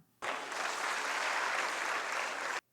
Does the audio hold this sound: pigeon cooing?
no